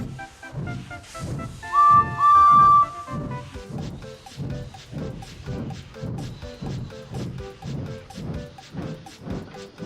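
A shrill train guard's whistle blows on a platform for about a second amid the steady rhythmic chuffing of a steam engine, which keeps pulsing after it stops.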